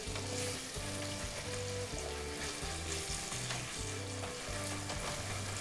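Nameko mushrooms sauté in garlic butter oil over low heat, a continuous gentle sizzle running under steady background music with no voices.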